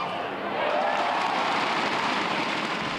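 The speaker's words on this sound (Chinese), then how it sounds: "现场观众一直加油欢呼" Spectators at a Taipei Open badminton final cheering and clapping, a dense roar of applause and shouting from a large indoor crowd that swells and holds steady.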